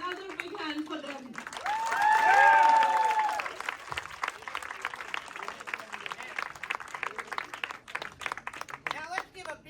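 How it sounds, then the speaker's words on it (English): An audience claps after a performance, a dense burst of applause that swells and peaks early before settling into scattered clapping, with voices and a tonal cheer or whistle woven through. "Another big hand for them."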